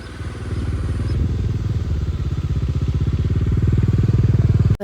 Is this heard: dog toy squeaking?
no